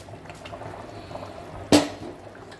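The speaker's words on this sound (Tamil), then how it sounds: "இப்போ அரிசி போடலாம்" Rice tipped into a pressure cooker of boiling chicken biryani lands with one sudden close splash and pour, set against a low, steady bubbling simmer.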